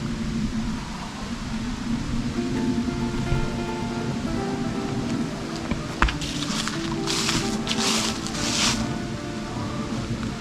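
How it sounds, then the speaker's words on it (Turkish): A creek rushes steadily and close by at a village campsite, a constant broad wash of flowing water with a few brief bumps and hisses partway through. "Hemen yanında dere var."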